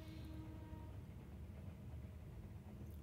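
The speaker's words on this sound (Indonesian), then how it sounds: "di tengah kota nih ada suara kereta nih guys" A low, steady rumble of a train rolling by at a distance, blended with broad city traffic noise and no clear voices.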